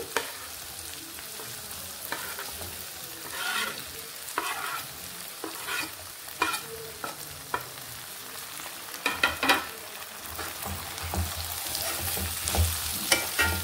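Thinly sliced potato pieces fry with ginger garlic paste in a pan. A soft, steady sizzle runs under repeated close spatula stirs and scrapes that grow busier toward the end.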